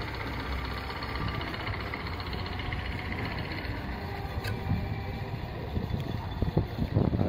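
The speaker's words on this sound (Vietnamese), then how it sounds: "Ghe tàu đang vô ha." Boats and barges entering a ship lock on a river, a steady low engine rumble with wind buffeting the microphone throughout, continuous and fairly close, without talking.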